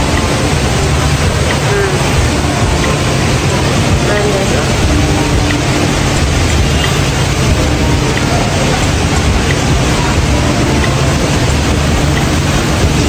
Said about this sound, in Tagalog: Malakas pa guys, oh. Yung ulan.